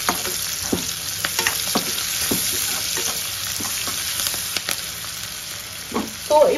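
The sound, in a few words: frying food in a pan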